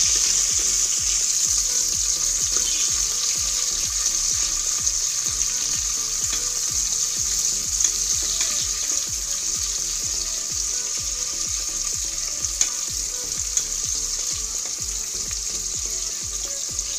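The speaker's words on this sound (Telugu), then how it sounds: "దీనిలో 1 కప్ ఆనియన్స్, గ్రీన్ చిల్లీస్ వేసుకుని ఫ్రై చేసుకోవాలి." Onions and green chillies fry in a pan for an egg pulao with coconut milk, giving a loud continuous sizzle with steady crackle and occasional stirring scrapes close to the pan.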